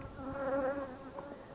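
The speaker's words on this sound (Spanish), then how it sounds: "Hay miles de abejas aquí" A steady, close hum of thousands of honeybees around a hive on a windy day, even and moderately loud for a second and a half with no talk.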